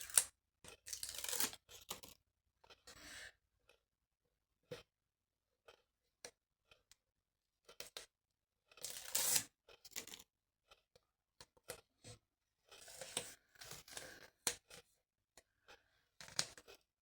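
Double-sided tape being peeled off a craft piece, a snowman Christmas decoration made from an empty chip tube: quiet, scattered tearing and scraping bursts with pauses in between, some short and some longer.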